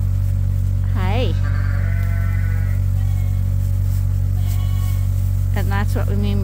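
Lambs bleating on a farm, a couple of wavering high calls near the start and another pair toward the end, heard over a constant low engine-like hum.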